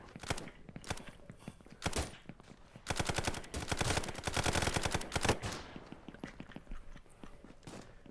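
Gunfire in a VR shooter on Modern Warfare 2's Terminal map, played with a gunstock: rapid close bursts of automatic shots, one long dense volley in the middle, then scattered single cracks.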